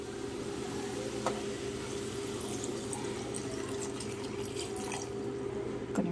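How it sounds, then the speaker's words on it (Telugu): Water is poured into an AMC cookware pot for soaked basmati rice, a steady, even rush of flowing liquid that runs unbroken from start to finish at moderate volume. "ఇప్పుడైతే ఎసరు పోసేసుకుందాము."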